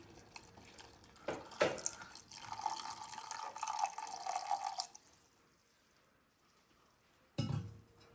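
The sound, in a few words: pouring milk into boiling tea decoction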